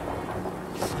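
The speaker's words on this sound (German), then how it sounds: "Ach, da ist ein Blitz eingeschlagen" Thunder rumbles from a lightning strike in the game Farthest Frontier, a dense, continuous low roar with a brief brighter crack near the end, alone without voices.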